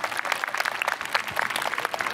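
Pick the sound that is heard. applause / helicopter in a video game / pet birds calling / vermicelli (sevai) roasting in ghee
applause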